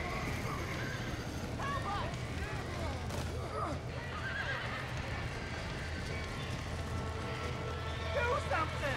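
Horses in Red Dead Redemption neigh and whinny repeatedly over galloping clip-clop hooves, with fire and game ambience filling the background throughout.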